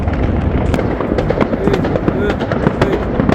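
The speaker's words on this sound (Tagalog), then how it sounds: "pakita ko na rin sa inyo yung mga paputok nila ngayon 2024" Dense, loud New Year 2024 fireworks crackle and pop in rapid bursts, overlapping into a continuous barrage close by.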